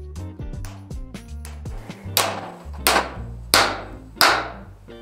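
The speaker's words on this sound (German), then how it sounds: "schlagen nun die Schraube so weit hinein" A hammer drives a screw to set a star nut into a bicycle fork's steerer tube. A run of quick taps is followed by four heavy, evenly spaced metallic blows that ring briefly.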